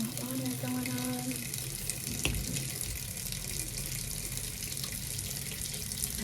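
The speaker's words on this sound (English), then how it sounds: "I have to get water going on." A bathroom faucet runs steadily, its water splashing continuously into the sink from start to finish, with a faint voice briefly audible near the start.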